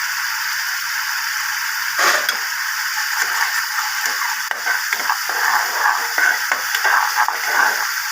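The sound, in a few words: taro and prawns frying with Kashmiri chili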